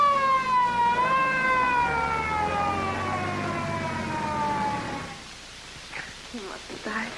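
A wailing emergency siren, heard in a 1943 mystery film, sweeps slowly downward in pitch for about five seconds, loud and close, before fading as voices begin talking.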